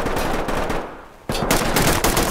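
Rapid gunfire from the video game Ready or Not rattles in dense automatic bursts, loud and continuous, easing briefly before another burst erupts, with no talking.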